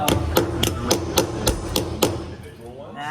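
A hammer taps a wheel balance weight onto the inner side of a tire rim, about eight sharp, evenly spaced metallic strikes close by, then a faint ringing tail.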